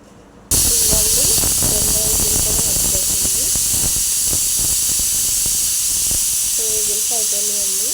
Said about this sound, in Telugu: ఒక విజిల్ వచ్చింది